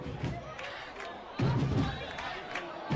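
Football supporters in a stadium crowd at a Chapadinha versus Pinheiro match in the Campeonato Maranhense, roaring and chanting steadily, with a louder surge midway, under a commentator's continuous talk.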